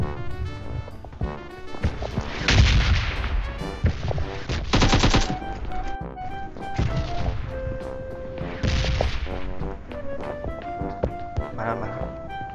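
Gunfire in the mobile battle-royale game PUBG Mobile: loud bursts of rapid automatic shots and single cracks in several clusters, layered with game music and effects while players talk over it.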